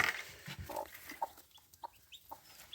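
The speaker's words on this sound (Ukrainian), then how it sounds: "А тут у нас курчата." Newborn chicks, one freshly hatched, give short high cheeps in a quiet home setting, about five or six separate peeps spaced irregularly, fairly faint and close, with some low handling rustle and no talk.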